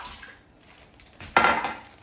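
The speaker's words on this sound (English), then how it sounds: "I will add 1 cup of water for pressure cooking" A cup of water is poured into an Instant Pot for pressure cooking, a sudden close splash that settles into a brief pour, after a few faint clinks of the pot.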